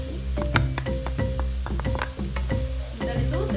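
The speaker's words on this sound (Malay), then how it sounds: "Setelah itu teruskan mengacau" Spices frying in a pan for sup konro, a Sulawesi beef rib soup, crackle and sizzle steadily while a utensil stirs and scrapes in repeated strokes, close and clear with no talk.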